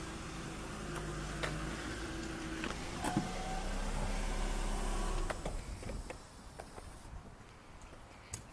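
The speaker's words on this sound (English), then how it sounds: "Fuel pump's quite noisy" Fuel pump of a Toyota Verossa running with a steady mechanical hum and whine under a low idling drone. The sound is fairly constant for about five seconds, then the low rumble drops away, leaving a thinner hiss with faint ticks.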